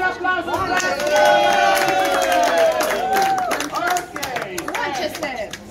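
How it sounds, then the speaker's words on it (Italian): Audience applause and cheering in a live crowd at a show in Costa Adeje, Tenerife, dense clapping mixed with whoops and chatter, steady for several seconds, with voices calling out over it. "un bel applauso per te"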